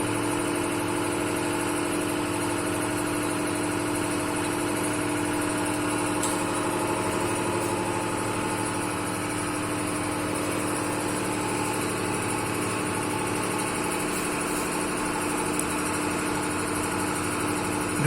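A compression testing machine runs in a lab with a steady, droning mechanical hum and faint whine that holds level throughout, with no talk.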